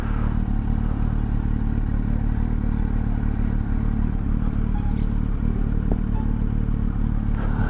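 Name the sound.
motorcycle riding past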